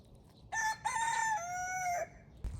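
A rooster crows loudly and close by in one long drawn-out cock-a-doodle-doo lasting about a second and a half, with a brief cluck just after it, at home on a December morning.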